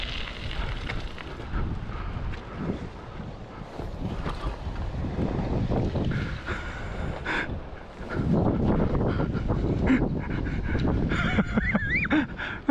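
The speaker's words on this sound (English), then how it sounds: "it's windy." Strong gusting wind roaring across a microphone while riding an electric BMX bike, rising and falling in waves, with occasional creaks and a brief squeal near the end.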